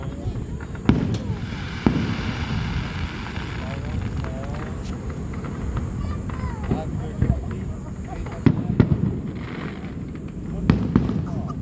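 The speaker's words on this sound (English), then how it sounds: "And I bet it was some cool fireworks too." Fourth of July fireworks bursting at a distance, with scattered booms and crackles over a steady rumble while people talk throughout.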